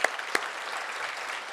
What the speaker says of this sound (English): So can we hear a round of applause for them?